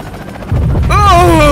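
Helicopter in the Garry's Mod video game, a loud rotor and engine drone that swells in abruptly, then a rising whining tone layered over the low churn.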